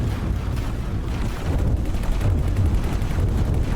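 Station turrets in the space game X4: Foundations fire in a continuous dense barrage, loud booming and rumbling thuds rolling without pause, with no voices.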